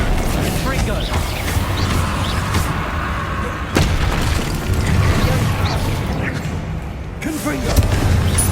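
Fiery blasts of the Confringo explosive spell in the video game Hogwarts Legacy, heavy booms and bursts rumbling over dense combat noise, with a voice calling out in the middle.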